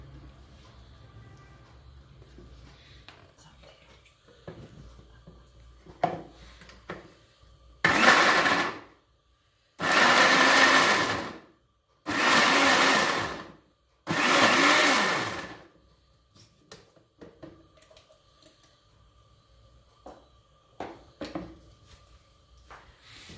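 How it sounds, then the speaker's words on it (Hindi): A kitchen blender whirs through tomato and green chillies in four loud, steady bursts separated by brief pauses, with quiet handling sounds before and after. "अब इसको हम ब्लेंड करेंगे।"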